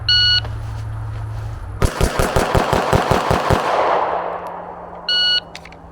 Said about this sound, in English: I'm gonna do a few rounds practicing with my ZeroTech Micro Reflex dot.